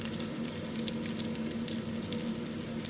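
Sun-dried pork sizzles in a pan with a little oil, a faint, steady crackle and patter that keeps going without a break.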